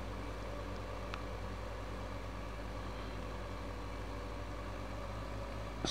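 A tractor engine in the video game Farming Simulator 15, a steady, low, droning hum that holds even throughout, fairly faint and alone.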